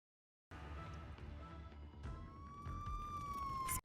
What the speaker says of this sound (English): Soon, cops, firefighters, and ambulances arrived at the scene of the incident in the mansion.